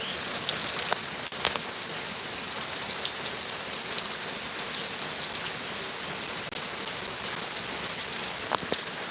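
Steady, even rain falls on a surface, a dense continuous patter with occasional louder drops, no voices.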